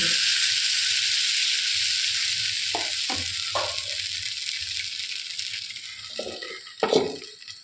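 Appam batter sizzling on a hot pan, a steady bright hiss throughout, with a few light clinks and scrapes of utensils and a louder knock near the end.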